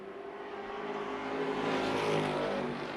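Race cars battle side by side for the lead at Tucson Speedway, a continuous loud roar of several engines at racing speed, steady and close with a rising swell midway.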